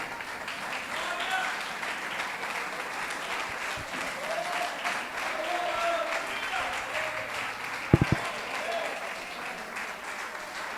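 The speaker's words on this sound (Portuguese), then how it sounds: "As palmas louvam o Senhor." Church congregation claps in praise during a worship service, a sustained dense patter of many hands filling the room, with scattered voices and a couple of sharp thumps near the end.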